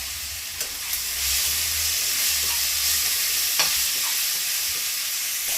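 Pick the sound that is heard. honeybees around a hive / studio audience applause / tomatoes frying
tomatoes frying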